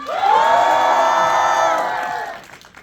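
A packed cinema audience at a film's stage greeting and curtain call cheers loudly, with many shouting and whooping voices merging into one sustained roar that fades near the end.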